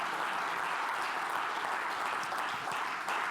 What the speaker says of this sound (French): Vous pouvez les applaudir ces gens en fait.